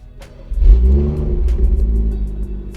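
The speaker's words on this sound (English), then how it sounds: "Let's turn on the car and see if we actually did it." A car engine cranks and catches about half a second in, then settles into a steady, close low rumble with a slight rev, no voices.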